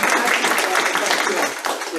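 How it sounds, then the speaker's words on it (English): Brief applause from a meeting audience, loud close clapping over a couple of seconds, with speech mixed in. "round of applause"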